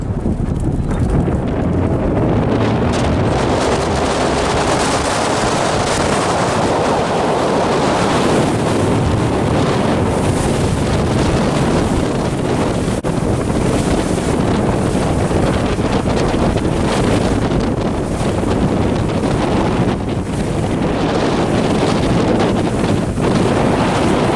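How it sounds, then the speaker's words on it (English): Sun Tracker Party Hut pontoon boat speeding up on open water, a steady loud rush of engine, hull and water noise with heavy wind buffeting the microphone throughout, no talking. "we're gonna get a quick acceleration of the boat"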